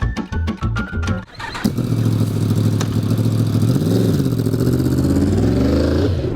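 A Yamaha MT-10 motorcycle engine starts after a few short sharp clicks, then settles into a loud, close idle with a couple of gentle revs swelling and falling.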